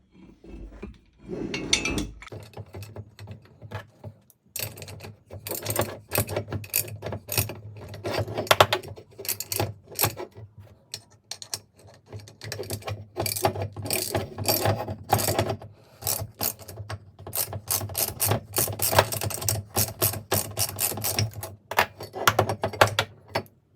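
Ratchet and sockets work a bush out of the alternator from a BMW E34 M5 with the S38 engine, giving close, repeated metallic clicks in irregular bursts between short pauses.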